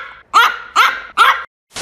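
Yorkshire Terrier, a small British toy terrier, barks three times in quick, evenly spaced succession, close and loud, with a fourth bark just starting at the end.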